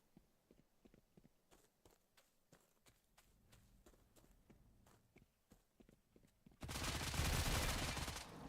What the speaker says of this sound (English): He's shooting at me from somewhere.